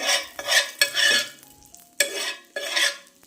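Butter sizzles and crackles in a hot pan in a home kitchen, with repeated bursts of stirring and scraping that rise and fade in a loose rhythm.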